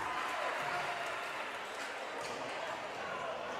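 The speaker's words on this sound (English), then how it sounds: "The crowd starts getting louder." During a high school basketball game, a crowd keeps up a constant, fairly distant roar that swells slightly, with faint sneaker squeaks and speech mixed in.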